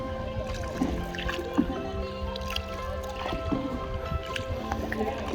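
A village boat is rowed along a canal, with soft gurgling and dripping water under a murmur of distant voices.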